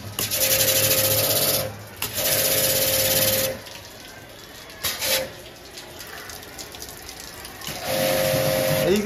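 A water jet sprays in loud bursts during air-conditioner servicing, gushing for a couple of seconds at a time and then pausing between sprays while low talk continues.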